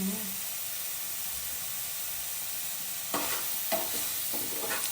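Masala cooking in oil in a home kitchen pan until the oil separates, heard as a soft steady sizzle under a hiss, with a few brief stirring scrapes near the end and no talk.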